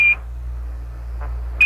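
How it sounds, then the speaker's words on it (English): An Apollo lunar module 1201 program alarm sounds as two short, sharp high-pitched beeps, one at the start and one at the end, separated by a quiet stretch of radio hiss. "Roger, 1201 alarm."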